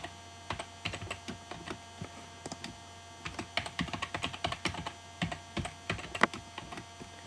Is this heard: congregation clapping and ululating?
no